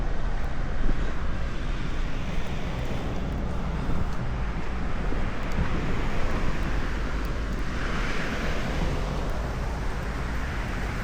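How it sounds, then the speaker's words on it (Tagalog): Strong wind buffets the microphone steadily in an outdoor spot in New Zealand, a loud, constant rushing roar with no pauses. "Lakas ng hangin, grabe."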